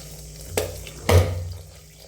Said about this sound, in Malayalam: ഇനി ഇത് നമുക്ക് ആവശ്യത്തിന് വെള്ളം ഒഴിച്ച് കൊടുക്കാം